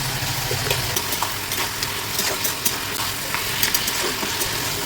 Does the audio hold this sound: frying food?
yes